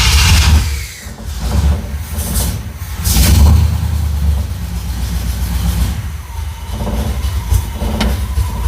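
A 1969 Chevelle engine runs steadily up close, a loud low rumble with a few revs rising and falling over several seconds.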